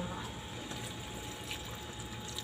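Water pours steadily into a pan of adobo kangkong with shrimp, a continuous soft gushing at close range with no talk.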